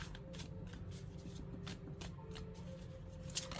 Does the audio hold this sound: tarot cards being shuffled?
yes